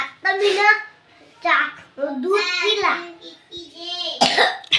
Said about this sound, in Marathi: आता तू दूध पिला आणि खोकला किती झाला?